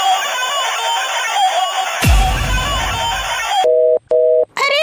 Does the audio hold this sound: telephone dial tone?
yes